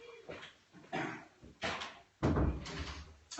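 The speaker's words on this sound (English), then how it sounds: "I'm just going to shut the door" A household door is pushed shut, with several dull thuds and scrapes spread over a few seconds, fairly close and moderately loud in a quiet room.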